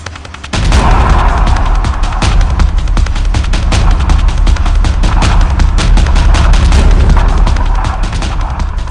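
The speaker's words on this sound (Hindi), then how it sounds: "भारतीय तोपों से बरसी आग।" Continuous heavy barrage of booming Indian Army artillery cannon fire and explosions, loud and dense, with rapid overlapping blasts throughout.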